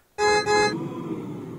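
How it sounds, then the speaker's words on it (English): A car horn gives two quick honks, loud and close, followed by a lingering low background rumble. "Honk, honk."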